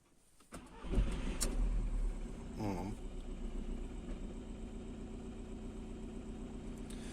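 A brief starter crank, then the 2.0 TDI diesel engine of a Seat Alhambra catches and settles into a steady, rough idle nearby; the engine starts poorly after standing.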